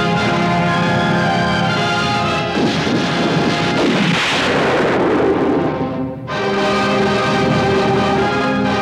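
Cannon artillery fire thunders loudly in a dense, rumbling barrage, with a brief lull near the end before the booming resumes.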